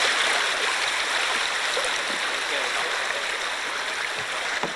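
Fast, deep river water churns over rocks on a canoe trip, a steady close rushing and gurgling, with a voice talking over it.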